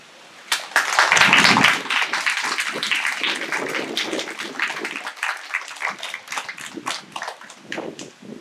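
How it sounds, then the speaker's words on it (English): An audience applauding veterans at a Veterans Day ceremony, a burst of sustained clapping from a crowd that swells quickly and then thins gradually into scattered claps. "Let's give them a round of applause."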